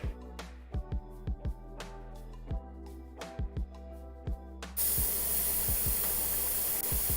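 Airbrush being cleaned out, first as short separate spurts and then as one loud, continuous, steady hiss of spray.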